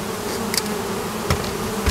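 Honeybees swarm around a trap set near a hive, their dense continuous buzz close and steady, with a couple of brief sharper flyby bursts and no talk.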